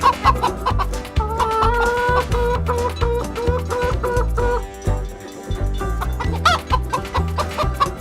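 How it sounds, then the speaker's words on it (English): Repeated close hen clucks sound in quick rhythmic bursts over an upbeat children's song about farm animals, with a brief dip in the music midway before the clucking and tune return. "A hen."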